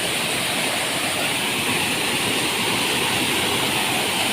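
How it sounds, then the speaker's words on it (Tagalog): A waterfall in Sarangani province pours in a steady, full roar, close and loud, with no variation or voices. "Ara silip na nato ang falls oh."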